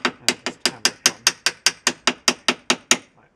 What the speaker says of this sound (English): take a little chunk of softwood, make sure that it's pressed against the end of the bearing, and just hammer it on